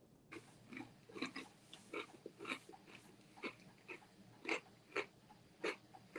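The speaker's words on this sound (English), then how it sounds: "I can hear you chewing." A person chews food close to a microphone, producing quiet, irregular wet smacks and crunches repeating every half second or so, with no talking.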